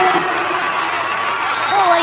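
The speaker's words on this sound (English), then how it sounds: "the entire crowd at the Lal Bhai Contractor Cricket Stadium is up and applauding the knock of Solomon Mire" Large crowd at the Lal Bhai Contractor Cricket Stadium cheering and applauding a batsman's innings, a steady roar of voices and shouts filling the stands, with a commentator talking over the noise.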